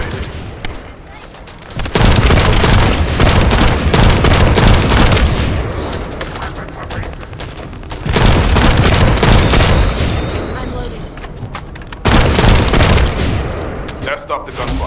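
Heavy gunfire and booming blasts in The First Descendant come in three loud, dense bursts separated by quieter lulls, rapid shots layered over rumbling impacts.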